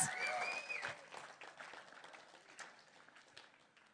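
An audience at an art and politics event claps, the applause starting fairly strong and gradually fading to a faint patter, with a brief tonal sound at the start.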